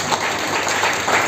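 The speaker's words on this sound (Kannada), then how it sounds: "ಅವರಿಗೆ ಒಂದು ಜೋರಾದ ಚಪ್ಪಾಳೆಯನ್ನು ತೆಗೆದು" Brief burst of audience applause for the teachers at a school theatre festival event in Savanur, many hands clapping together in a dense, even patter.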